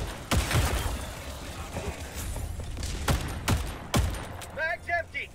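Gunfire in the video game Helldivers 2, a few sharp separate shots spread over several seconds over a low background din, with a short electronic chirping sound near the end.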